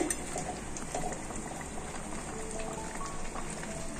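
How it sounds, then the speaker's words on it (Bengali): Partly cooked lentils (dal) bubble steadily in a pot as sweet mitha dali is prepared, a close, continuous simmering boil with no talking. "ডালটা অনেকখানি সিদ্ধ হয়ে গেছে।"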